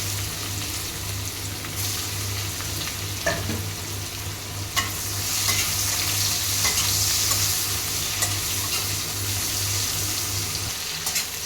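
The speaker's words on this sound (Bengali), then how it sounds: "পেঁয়াজটা একটু ভাজা হয়ে যাক" Chopped onions frying in a pan with cinnamon and cardamom for Bengali rui fish kalia, a steady close sizzle with occasional stirring clicks and scrapes, no talking.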